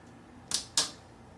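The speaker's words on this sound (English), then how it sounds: "push down on the T key until you hear a couple snaps" Two sharp, close plastic snaps of a MacBook Pro 13-inch Unibody T key clicking into place, a quarter second apart, over a quiet room.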